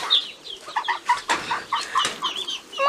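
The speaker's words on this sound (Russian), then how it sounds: "А тут у нас маленькие уточки." Small ducklings on a garden farm peep in a rapid, high chorus of short calls, close by and fairly loud, with overlapping cheeps running throughout.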